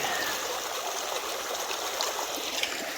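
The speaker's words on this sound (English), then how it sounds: "Here comes Kathy across the creek." Creek water flowing at a trail crossing in the Ponca Wilderness along the Compton Trail, a close, steady rushing and trickling stream with slight gurgles, continuous and without talk.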